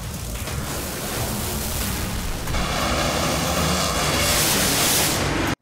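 A nitro drag racing car roars down the strip, a huge sustained jet-like blast that swells louder over several seconds with no talking.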